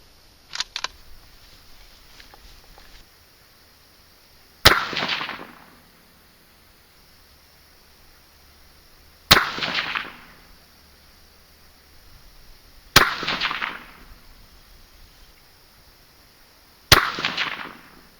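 Four sharp, loud .223 rifle shots firing 55-grain cast bullets over CFE223 powder, each a hard crack with a short decaying tail, spaced several seconds apart at an outdoor range, preceded by faint small clicks.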